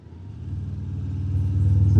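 A 2024 Harley-Davidson Breakout 117 motorcycle downshifting, its engine producing a loud, close, rising rumble with a rhythmic pulsing throb over two seconds and no talking.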